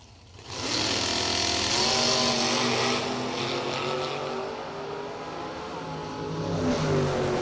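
A Camaro drag racing car launches down the strip at a street nationals event, its engine roaring loud and sustained for several seconds with rising and falling revs, no talk over it.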